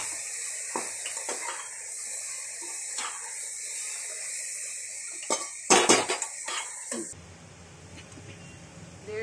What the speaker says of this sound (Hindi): सब्जियों को सब्जियों को हम मिलाते रहेंगे थोड़ी देर